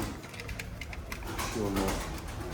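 A pigeon gives a low, rolling coo partway through, close by, over a background of rustling and ambient noise.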